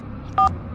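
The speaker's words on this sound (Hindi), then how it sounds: "पंडित को फोन लगाता हूँ।" Phone being dialed, a single brief two-tone keypad beep standing out over a quiet background hum.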